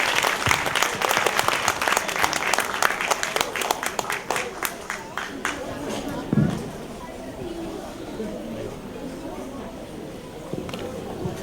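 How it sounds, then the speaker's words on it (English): A crowd applauds loudly at a young authors' award ceremony, with dense clapping that gradually thins and fades, while a voice speaks over it near the end. "Can we have a round of applause for these aspiring young authors?"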